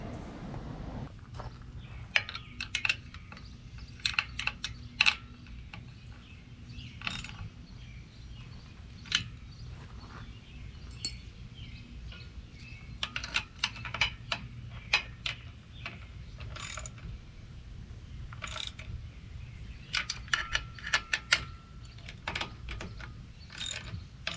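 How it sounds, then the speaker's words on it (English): Bolts are tightened on a winch step fitted to a Tracker boat, with bursts of quick metallic ratchet clicks separated by pauses. The clicking is close and repeats over and over with no talk. "Now we can tighten up the bolts"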